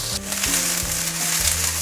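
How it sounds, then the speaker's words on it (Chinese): Black bean sprouts and shredded carrot stir-fried in a wok, a continuous loud sizzle with a low hum and rhythmic scraping as the vegetables are tossed, no voices. "现在可以放入黑豆芽菜了"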